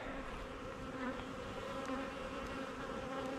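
A dense, steady drone of many honey bees buzzing close by, a continuous hum with no pauses and no voices.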